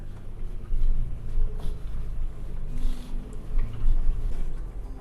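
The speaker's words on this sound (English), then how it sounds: "I'm just idling down the other side." A Toyota FJ Cruiser idles down the far side of an off-road slope, its engine a low continuous rumble with crunching and bumping from the terrain, close and fairly loud.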